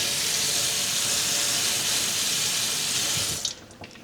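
Tap water runs in a strong, steady stream as hand-dyed yarn is rinsed beneath it, then cuts off near the end, leaving a few faint drips and clinks.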